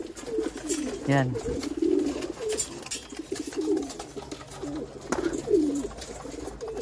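Pigeons coo softly in a breeder cage fitted with a poop tray, their low rolling calls repeating throughout at close range while someone talks over them.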